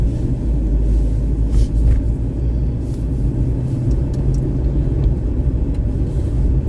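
A car drives along in winter with a steady, loud low rumble of engine and road noise from inside the cabin and no talk.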